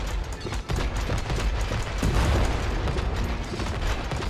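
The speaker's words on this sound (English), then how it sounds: "Blow these firecrackers up." Dense, rapid crackling bursts of firecrackers going off in the video game It Takes Two, loud and continuous with a heavier boom in the middle.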